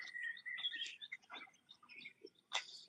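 A group of birds calling on a nature walk, a string of quick chirps and short tweets from several birds, close and clear, with brief gaps between calls and a sharper call near the end.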